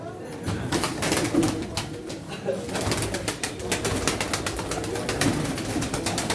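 Pigeons coo steadily at a pigeon auction in Çorum, with overlapping throaty calls and some wing flutters amid a busy indoor crowd, while people talk faintly in the background.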